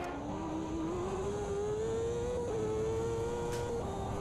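A 2000s CART race car engine in Automobilista 2 at Road America screams steadily at high revs, its pitch climbing slowly and holding near and loud throughout with no talk.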